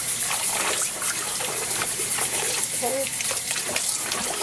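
Hand-dyed cross stitch linen, colored with mango and watermelon, is rinsed under running tap water, with a steady broadband gush and splash continuing throughout while a voice speaks briefly.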